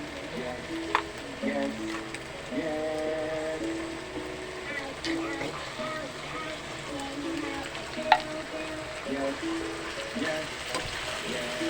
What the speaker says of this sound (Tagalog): Pag malambot na ang patatas, ihuhulog na natin ang corned beef.